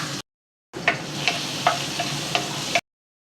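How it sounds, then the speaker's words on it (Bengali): Chopped onions fry in oil with a soft, even sizzle, punctuated by several light tick-like clicks from stirring, between short silent gaps. "পেঁয়াজটা হালকা ভেজে নিলাম।"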